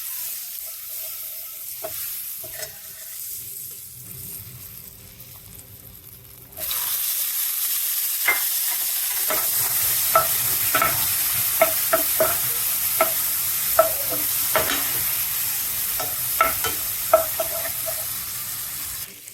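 Buttermilk tempering in a pan with cumin, asafoetida and turmeric: a quiet start, then an abrupt, loud, steady sizzle with repeated clinks of stirring, and no talk.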